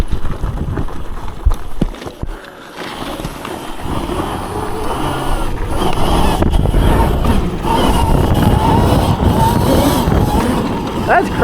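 A Sur Ron electric dirt bike fitted with a custom XUB motor rides past, giving a steady, continuous rumble with wind buffeting that builds and holds loud through the second half.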